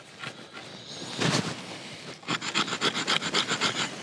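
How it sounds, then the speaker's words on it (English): Camillus Swedge knife edge scraping along fatwood, a close dry rasp that starts in scattered strokes and then turns into a quick rhythmic series of even scrapes. "this edge is not great for carving Fatwood, but what about scraping some Fatwood?"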